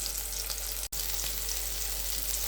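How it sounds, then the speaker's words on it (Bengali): Chicken kofta sizzles lightly in a pan with a steady, dense hiss, broken once by a brief dropout. "এটা এখন আমি হালকা করে ভেজে নিব আর কি"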